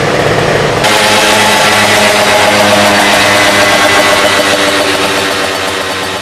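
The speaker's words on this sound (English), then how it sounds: "Now that we've seen how it performs, let's do the dyno test" Daelim S-Five scooter with aftermarket exhaust and parts but no 70cc kit, running on an in-house dyno, its engine catching and then droning loud and close in a steady sustained buzz.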